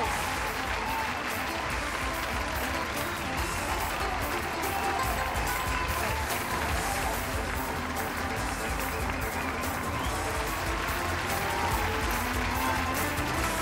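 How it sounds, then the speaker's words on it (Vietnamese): Sustained crowd applause at a pageant awards ceremony for the best national costume prize, dense continuous clapping with some cheering and voices mixed in throughout. "Một tràng pháo tay nữa cho Khắc Linh Ngọc Tâm Thanh với giải thí sinh mặc quốc phục đẹp nhất"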